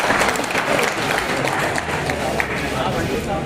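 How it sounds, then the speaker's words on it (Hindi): Loud, dense audience applause fills a university hall at a Dr. B.R. Ambedkar Jayanti event at Delhi University, steady throughout with crowd noise and voices mixed in. "जोरदार तालियां प्लीज कर मेरा निवेदन है आपसे"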